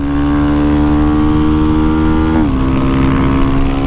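Engine of a Start 190 motorcycle running loud and steady with a strong buzzing tone, dipping briefly mid-clip as a gear is shifted, then holding its pitch.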